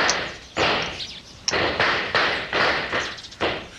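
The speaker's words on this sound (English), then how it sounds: "Gunshots. Sounds more like home." A series of sharp cracks, about six in irregular succession, each followed by a decaying reverberant tail, like gunshots echoing at a distance.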